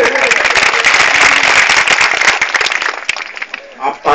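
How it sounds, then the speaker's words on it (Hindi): Dense applause from a political rally crowd in Rajasthan fills the scene, loud and sustained, thinning toward the end with scattered claps. "आप ताली बजा रहे हो, उसका मतलब आपने तैयारी कर ली है।"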